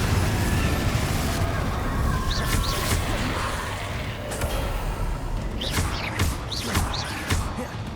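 Spell impact from a Confringo blasting curse in Hogwarts Legacy: a dense, loud burst of crackling noise with thuds, running continuously through the clip alongside game sounds.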